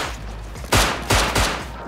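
Video game gunfire, three quick loud close shots in a short burst against steady game background noise.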